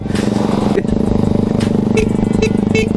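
A classic motorcycle rides along with a loud, steady thumping engine throb close by, its rhythmic low pulsing continuous throughout, with a few faint higher tones and clatters layered on top.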